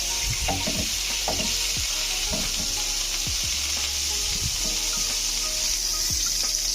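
A spoon stirs meat sauce in a sizzling pan, producing a steady loud fry with repeated scraping strokes and clatter close by, running continuously without speech.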